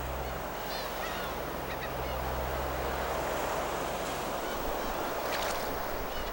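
Black-tailed gulls call at sea near Dokdo, a few short wavering cries rising over constant roaring surf and wind, moderately distant and partly masked by the waves.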